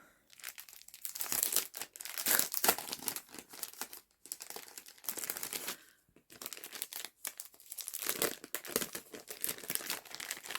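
Plastic bag crinkled close up while sorting diamond art drill packets, steady rustling and crackling in bursts with brief pauses between handlings.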